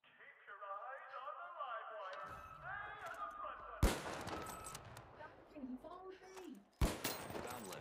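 Turret gunfire in THE FINALS, heard as sharp loud bursts of shots amid a busy game mix, with a voice talking over much of it.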